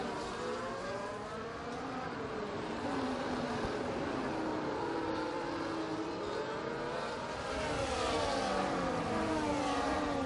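F1 race cars, including a McLaren, in the F1 24 game at the Australian Grand Prix, engines whining and rising in pitch through gear changes, several cars close together and loud throughout with no talk.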